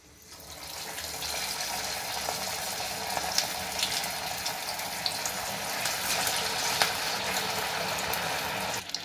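Sabudana vadas dropped into hot oil over a medium flame give a steady, even frying hiss that swells slightly and stays close and constant throughout.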